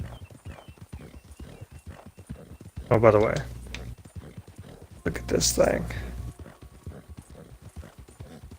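Hooves of an American Standardbred horse with a buckskin coat clip-clop in a steady, quick rhythm in Red Dead Redemption 2, while someone talks over them and a couple of louder bursts rise briefly.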